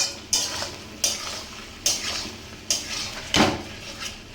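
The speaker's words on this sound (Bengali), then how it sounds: "চিংড়ি মাছের সাথেই ভালো করে কষাচ্ছি।" Prawns are sautéed in a pan with curry spices, with a soft sizzle under repeated metallic scrapes and taps of a spatula stirring at a steady, spaced rhythm.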